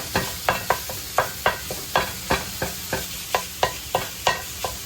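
Pork sausage sizzles in a pan while a utensil scrapes and stirs it in a steady rhythm of sharp, close strokes, about two or three per second, over a continuous frying hiss.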